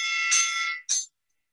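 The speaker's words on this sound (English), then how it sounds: "I'm going to give you the bell" A bright electronic bell tone sounds twice to start a debate round, one long ring followed by a short second ring, then silence.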